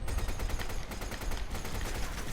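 A gun turret in the Resident Evil 5 video game fires in rapid, evenly spaced bursts, loud and close, as a continuous rattling stream of shots with heavy low-end thump.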